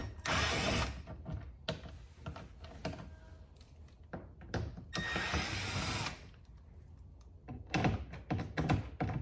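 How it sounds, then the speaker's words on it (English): Hand tools working T15 Torx screws out of the front fender liner of a Corvette C6, heard as bursts of clicking, ratcheting mechanical action in a few separate runs, close up with no talking. "we're going to remove all these screws from this fender liner"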